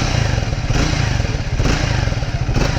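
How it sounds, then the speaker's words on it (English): Triumph Speed 400 motorcycle idling in neutral, its exhaust giving a steady, loud, bassy low thump with a close, even pulsing rhythm throughout. "exhaust has a good pretty thump to it. It's a little bit bassy"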